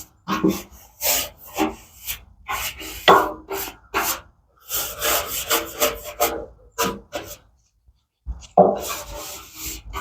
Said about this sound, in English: we're going to go ahead and take our brush here and get all this stuff off.